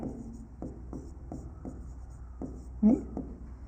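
A teacher writes notes on a board, giving a series of short, sharp strokes at an irregular rhythm over a faint steady room hum, with a slightly louder scrape near the end.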